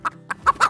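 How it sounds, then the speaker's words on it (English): A hen clucks four short, sharp times at close range, with brief pauses between the clucks and nothing else heard. "Hen."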